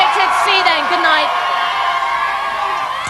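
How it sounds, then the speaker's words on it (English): Crowd outdoors shouting and whooping in the rain outside the Big Brother UK 2001 house on a live eviction night, a dense, continuous babble of raised voices with high yells rising over it. "People outside shouting."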